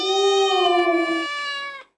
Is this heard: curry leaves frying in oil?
no